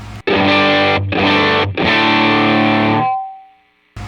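Electric guitar through a Matchless amp model on a Line 6 Helix modeler, with cut raised and presence lowered, played as loud distorted sustained chords in three strums, the last ringing out and fading to near silence.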